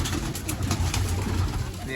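Pet pigeons cooing in a loft, soft repeated low coos close by, heard under someone talking throughout.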